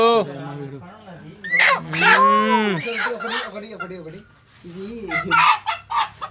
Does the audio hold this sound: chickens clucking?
yes